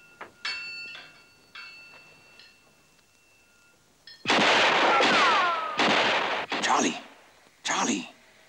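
Unsuppressed gunshots crack out in a dramatic scene: several loud, sharp blasts in quick succession, each with a ringing tail, following a quieter stretch of faint electronic tones.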